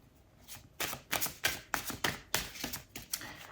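Tarot cards being shuffled by hand during a reading, a run of quick crisp riffling snaps about every third of a second, close and fairly quiet with no talking.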